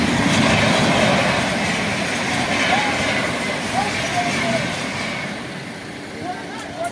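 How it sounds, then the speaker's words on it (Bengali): A Howrah-bound train runs past on the railway near a rail construction site, a steady loud rumble and rolling clatter sustained across the whole stretch, with faint squeals rising above. "হাওড়া ট্রেন একদম ডাইরেক্ট হাওড়া কিন্তু বেরিয়ে যাচ্ছে।"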